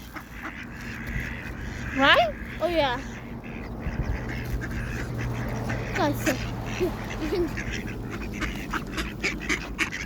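Ducks quack in short nasal bursts near a pond where ducks, seagulls and swans are being fed, with a couple of clear calls close by and more scattered ones later, under excited conversation.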